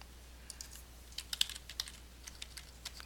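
Computer keyboard keys clicking in quick, irregular taps while working in Revit, close and fairly quiet over a low steady room hum.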